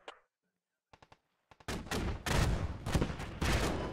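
Artillery and gunfire in the military shooter game Squad: a few sharp isolated shots, then a dense, loud barrage of booming impacts and rolling explosions that continues without pause.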